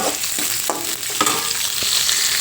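Papri frying in hot oil, a dense, loud, continuous sizzle and crackle close by with a few brief scraping strokes of a utensil, no talk.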